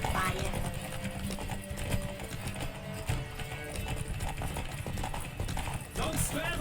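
Horse galloping in The Witcher 3 video game, fast rhythmic clip-clop hoofbeats running throughout, close and steady, with voices talking over them.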